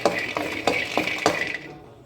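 Roasted almonds scraped and tipped from a pan into a bowl, giving a run of close dry scraping strokes with light clinks and rattles that fade out at the end.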